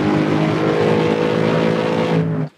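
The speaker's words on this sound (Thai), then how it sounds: "เดี๋ยวเราไปฟังเสียงท่อกันครับ" A Range Rover Sport L320 V8's deep, throaty exhaust drones steadily at high revs, loud and close, then cuts off abruptly at the end.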